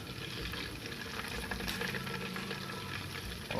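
Chicken wings marinated in fish sauce deep-frying in hot oil, a steady close bubbling sizzle with crackly spatter that holds level throughout with no talking.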